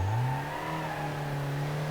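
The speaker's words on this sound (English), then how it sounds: "even though it's a diesel engine, it still has plenty of poke to it." An ETK 854td diesel car in a driving game revs and accelerates, its mid-pitched engine note rising briefly and then holding at a steady, strong drone.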